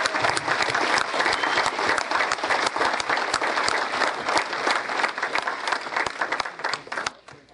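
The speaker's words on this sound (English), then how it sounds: "So give yourselves a round of applause" Sustained applause from a graduation ceremony audience, dense and loud throughout, thinning slightly toward the end.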